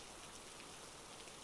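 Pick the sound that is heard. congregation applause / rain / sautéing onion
rain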